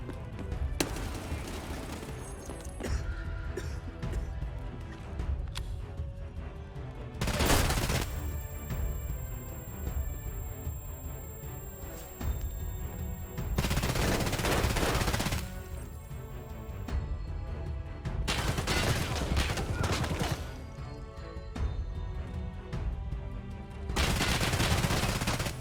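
An MP7 submachine gun firing in the video game Escape from Tarkov, with loud rapid bursts that come and go in several separate volleys amid other clatter and impacts, and no talk.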